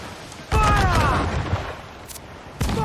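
In Assassin's Creed 4: Black Flag a ship's cannon volley cracks out in a close, loud burst with a short ringing tail. A second blast follows about two seconds later, and a voice shouts under the noise.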